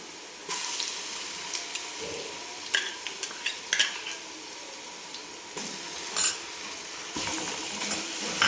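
Ginger-garlic paste and browned onions sautéing in a pan for a chicken pulao, with soft scraping and stirring strokes, occasional light clinks of a spoon against the pan, and a faint sizzle throughout, quiet and close with no talking.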